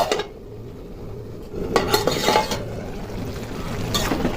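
A metal lid clinks down onto a pot of bottle gourd and prawn curry after fried prawns go in, with a few clattering knocks of cookware close by and no talking.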